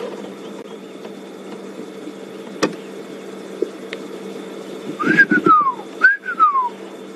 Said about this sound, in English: It's the call of a white-faced whistling duck.